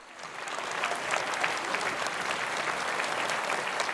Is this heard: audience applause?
yes